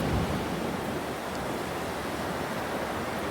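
Pacific Ocean waves breaking on a rocky shore of rounded stones below cliffs, a steady loud broadband roar of surf filling the whole stretch with no voices.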